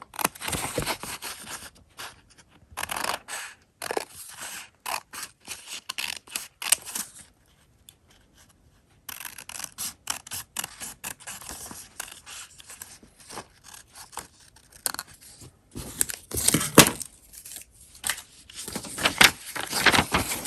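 Scissors cut through fabric for a breathable three-layer face mask, giving bursts of crisp snipping and scraping separated by short silences, with one longer pause in the middle. The sound is close up and there is no talking.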